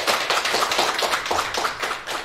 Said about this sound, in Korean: 박수로 시작하겠습니다.